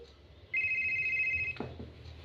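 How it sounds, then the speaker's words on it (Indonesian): In a horror video game, a telephone gives one sharp electronic ring that holds for about a second and stops abruptly, leaving faint ambient noise. "Telepon kah itu?"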